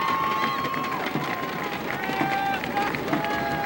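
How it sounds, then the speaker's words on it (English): Bexley fans at a 2004 girls' youth soccer state final pound thunder sticks in a steady, rapid clatter, blending into a dense, continuous crowd roar with no pauses. "The Bexley crowd starts beating with their thunder sticks"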